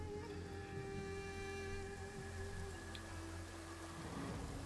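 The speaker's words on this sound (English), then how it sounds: "Does the rain do anything to the archers and or stuff like that?" Steady rain pours down in a medieval battle video game, a dense even hiss running unbroken with faint low rumbling beneath and sustained tonal music-like lines layered over it.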